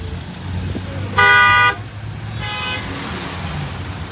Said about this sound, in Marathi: पूर्ण ट्रॅफिक जाम आहे आता.